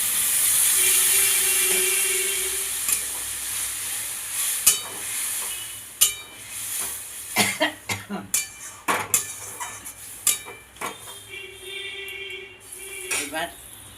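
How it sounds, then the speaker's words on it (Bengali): Water poured into a pan of frying tangra fish curry brings on a sizzle, then a spoon scrapes and clatters against the pan in quick bursts. A voice is heard faintly in the background. "এবার আমি অনেকটা জল দিয়ে দিলাম"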